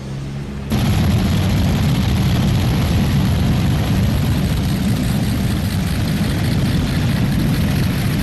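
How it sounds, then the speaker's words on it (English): Allison aircraft engines roar at full power on a 7700 modified race car during a 1999 NFMS event, a loud steady broadband drone that kicks in abruptly after a brief quieter moment and holds without letup. "he's got his Allison aircraft engines"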